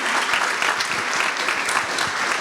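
An audience at an evening philanthropy conference applauds, a dense, steady clapping from many hands that fills the room throughout.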